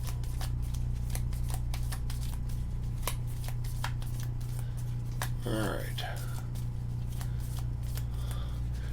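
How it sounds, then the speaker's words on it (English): Mythos cards for the Cthulhu: Death May Die board game are shuffled by hand in quick, crisp riffles and snaps up close, with a brief spoken word mixed in. "I got the Mythos cards all shuffled up"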